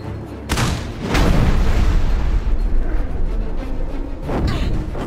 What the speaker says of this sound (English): now we can blow open the gate